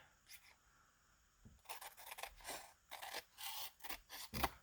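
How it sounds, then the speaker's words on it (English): Scissors cut along the edge of a piece of cardboard in a series of crisp, close snipping and rasping strokes, a brief pause followed by steady repeated cuts ending in a sharper snip. "The scissors just go right along the edge of this cardboard."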